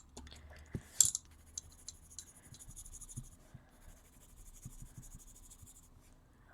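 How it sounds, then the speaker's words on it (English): Polychromos colored pencil scratching across paper while coloring a galaxy background, a faint steady scratchy stroke with a sharper scrape near the start, soft and close with no talk. "there's something in my pencil, it's making it sound scratchy"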